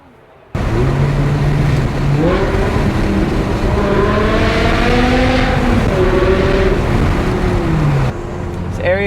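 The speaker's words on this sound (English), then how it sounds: "rolling through the mountains in a V10 BMW, following an M850" A V10 BMW M6 drives through mountain roads, its engine holding a loud, smooth, high-pitched note that climbs and shifts through the revs, heard from inside the car with a voice talking over it.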